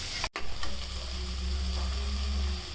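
Onion paste fries in a pan for a paneer curry, a loud, dense sizzle with stirring scrapes; after a brief cut near the start, the frying hiss carries on steadily and close.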